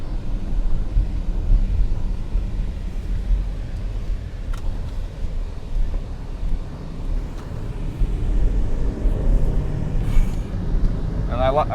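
A 500 HP Range Rover Sport cruises on the road, giving a steady low engine and road rumble with wind buffeting from inside the cabin, and faint muffled voices now and then.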